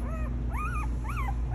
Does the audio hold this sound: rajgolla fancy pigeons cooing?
no